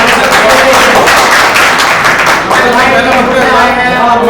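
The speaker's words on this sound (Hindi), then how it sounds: "एक बार तालियां" An audience at a ghazal recital claps and applauds loudly and continuously, a dense wash of hands that stays strong throughout.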